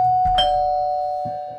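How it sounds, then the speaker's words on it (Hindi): Electronic doorbell chime rings once at a home's front door, a bright sustained tone that slowly decays, with a second soft tap of the button near the end. "आर्यमन ने हाथ बढ़ाते हुए डोरबेल बजाई"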